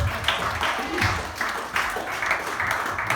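A church congregation claps along in a rough, pulsing rhythm during a sermon, bursts of clapping roughly every third of a second, fairly close and moderately loud.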